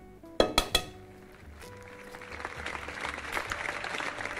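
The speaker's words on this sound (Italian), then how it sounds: "Applauso dalla regia" Applause from the production crew on the set of an Italian cooking show making torta tenerina. A few sharp clinks of dishes or cutlery come first, then steady, moderately loud clapping builds and carries on.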